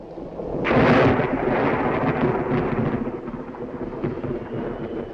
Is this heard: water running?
no